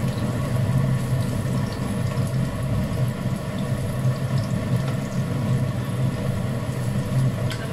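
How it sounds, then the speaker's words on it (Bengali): Garlic and chilies fry in a pan, browning lightly, a continuous even sizzle with a steady hiss and low bubbling that holds at a constant level throughout. "দেখতে পাচ্ছেন আমি নেড়ে চেড়ে হালকা ব্রাউন কালার করে রসুন এবং মরিচ দুটাই ভেজে নিচ্ছি।"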